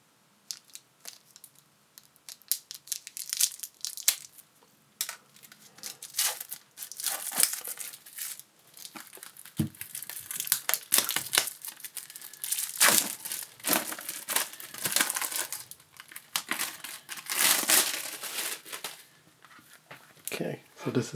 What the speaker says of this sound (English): let's just open the packaging